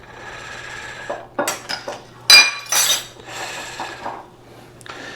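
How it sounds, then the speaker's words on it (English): A spoon's back working a pork injection mix of sugar and Worcestershire sauce in a bowl, producing a series of close clinks, scrapes and rubbing strokes in short irregular bursts over quiet background. "I'm going to use the back of the spoon on this because it's just a little bit easier"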